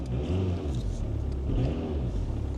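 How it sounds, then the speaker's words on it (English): An old diesel Audi engine idles with a steady, low, clattering rumble, close and continuous. "it sounds like a taxi, doesn't it? But then it's an old diesel"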